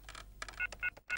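A phone number is keyed on a telephone, producing a quick series of touch-tone dialing beeps, each brief and evenly spaced, heard close and clearly with no talking.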